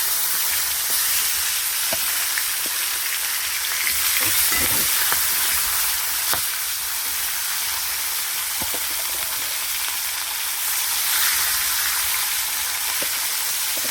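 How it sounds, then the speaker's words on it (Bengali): Small live rohu fish drop into very hot oil in a kadai and fry with a loud, continuous crackling sizzle, broken by sharp pops and occasional utensil clicks, close up with no voices. "মাছ দিয়ে দিচ্ছি, মাছটা ভেজে নিচ্ছি"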